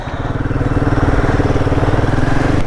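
Royal Enfield Himalayan 450 motorcycle riding on a long highway trip, its engine thrumming steadily and loudly up close with a fast pulsing beat throughout, no voices.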